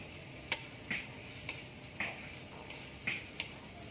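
A spice paste for a fig-and-prawn curry is sautéed and stirred in a pan. A spatula gives faint, regular taps and scrapes about every half second over a quiet background, with no voices.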